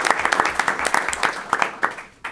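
Audience applause at a school board meeting honoring a student: a short burst of close, moderately loud hand clapping from a modest crowd, fading out over a couple of seconds.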